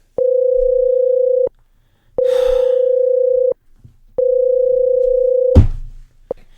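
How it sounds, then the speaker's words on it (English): A telephone ringback tone while calling someone: three loud, steady electronic tones, each lasting about 1.3 seconds with short silent gaps between them, interrupted near the end by a sharp click or clatter. "anytime I call someone, it's always like,"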